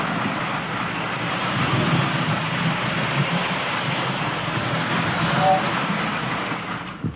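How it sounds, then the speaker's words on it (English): Electric toy trains run on a model layout, making a steady, rumbling whir that stays fairly constant and mid-loud throughout. "look at the electric trains"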